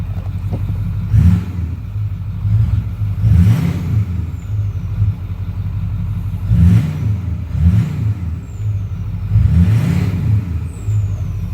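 A 2009 Ford F-250 truck revs and accelerates in performance mode, its deep engine note rising in several strong surges over a steady low rumble, close and loud with no talk.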